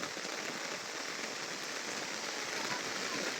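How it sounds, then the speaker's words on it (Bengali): Heavy rain falls steadily in a rural village area after hours of downpour, a dense, even hiss of drops on surfaces that stays loud and unbroken throughout with no voices. "প্রচুর বৃষ্টি।"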